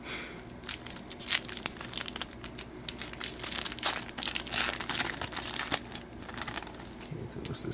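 Pokemon card booster pack wrapper being torn open, sharp crinkling and crackling foil bursts close up, irregular across several seconds with no speech.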